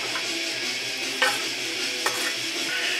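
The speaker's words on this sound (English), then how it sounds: "now when your oil is hot, get your onions into your frying pan" Onions fry in hot oil in a frying pan with a constant close sizzle, broken by two short clinks of a utensil against the pan.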